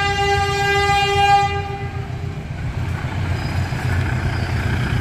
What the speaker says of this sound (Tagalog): Ayun yung train, oh. Yan ata yung bagong train.